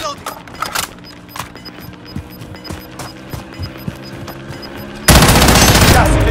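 Automatic gunfire in Call of Duty Modern Warfare: a rapid run of sharp, fairly close shots, with clicking mechanical handling between them, ending in a sudden loud sustained burst.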